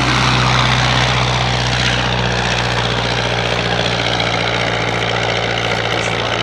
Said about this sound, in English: And here we go with the Avro Triplane.